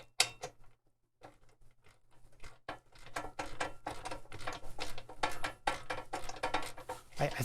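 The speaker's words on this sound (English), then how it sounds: "there's just enough room for me to get the wrench" A wrench tightening a bolt on a stool makes quiet, rapid ratcheting clicks and metallic ticks in an irregular patter, close and faint, with no talk.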